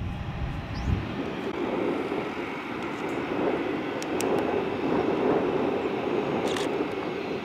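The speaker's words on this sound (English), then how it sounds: "the Allegiant A320 is pushing back for its flight to Punta Gorda" An Allegiant Airbus A320 pushes back at an airport terminal, a steady distant jet engine roar and rumble with faint higher whines, continuous throughout.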